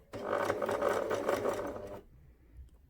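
A sewing machine stitches fabric for a plush bear, running in a steady loud mechanical whir for about two seconds and then stopping abruptly, close up with no talking.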